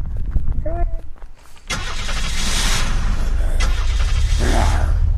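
A car engine in the video game Unturned cranks and catches, then runs at a steady, close mid-pitched rumble, after a few brief footstep-like sounds and a short tonal blip.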